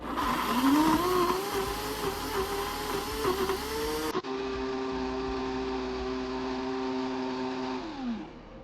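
An electric blender whirs steadily while blending dried chilies, dried anchovies and water into chili paste, a loud continuous motor drone that shifts pitch midway, then holds a steady tone before winding down at the end.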